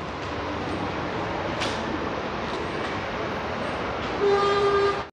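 Steady rumbling din of a train at Yaba station platform on the Lagos Red Line metro rail, with a brief horn-like tone rising near the end over the continuous noise.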